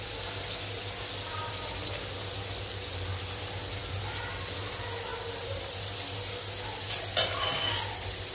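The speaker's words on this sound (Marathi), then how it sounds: "आता आपण आपली करंजी तळायला घेऊया." Karanji, sweet filled dumplings, deep-fry in oil over a medium gas flame while the oil is gently moved. A steady close sizzle is heard throughout, with a short louder bubbling burst near the end.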